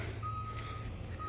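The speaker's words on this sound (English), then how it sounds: "That's the ambulance." An ambulance's steady tonal beep sounds at a distance over a low rumbling engine drone, holding through most of the moment with a brief gap, at an Arizona RV park during a police standoff.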